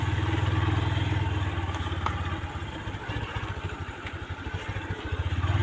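The engine of a large lowered motorcycle runs nearby, a loud steady low rumble that turns into a clattering, pulsing idle toward the end.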